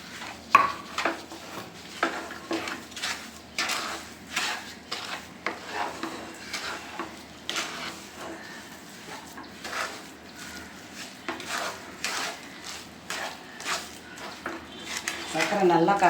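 Sweet aval kesari is stirred in a pan with a utensil, making steady scraping and clinking against the metal close up, with faint sizzling underneath.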